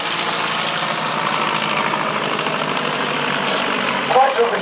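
A World War I fighter plane engine runs steadily with a continuous loud drone, holding an even level throughout with a brief bump near the end.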